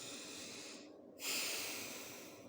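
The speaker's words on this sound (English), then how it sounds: "Take a long breath." A single long, deep inhale through the nose rises sharply near the middle and fades slowly afterward, close and fairly quiet over a soft background hiss.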